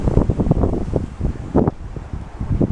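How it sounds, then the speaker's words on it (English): Strong gusting wind of about 22 mph outdoors on a rainy February day, roaring loud and close against the microphone in uneven surges, with no talk. "But it's windy."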